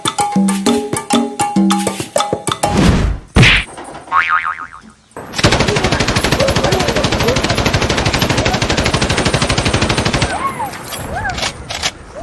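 A toy gun handed over during a Bangla street comedy monkey show plays electronic effects: bouncy boing tones, then a long rapid machine-gun burst of gunfire, loud and close, ending with sparse shots.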